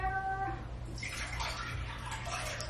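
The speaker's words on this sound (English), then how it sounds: "there's enough water in here." Water pours into a container during rabbit chores, a steady hissing splash rising after a brief voice, continuous and close through the rest of the moment.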